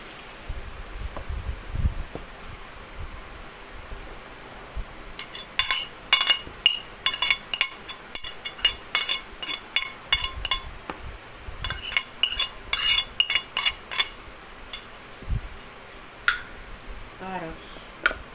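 Spoon clinking and scraping against a bowl while combining grated egg, carrots and cheese into a bread spread, in bursts of rapid metallic taps over low room noise, with some faint speech.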